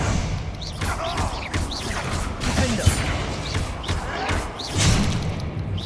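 In the Hogwarts Legacy video game, a Confringo spell fight bursts into dense, loud blasts, thumps and crashing impacts that pile up continuously, with whooshing magic layered over the chaotic combat.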